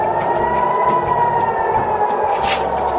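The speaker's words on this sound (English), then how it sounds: "Sirens are ringing across Tel Aviv." Air raid sirens wailing across Tel Aviv, a loud steady tone holding without pause, filling the whole stretch with a broad outdoor wash and no voices over it.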